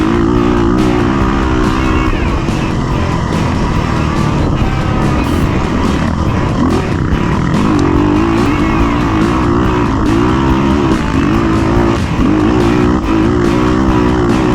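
A Yamaha YZF450R quad's engine roars loud and continuous at high revs while racing down a straightaway, with a steady buzzing drone and wind rush close to the rider.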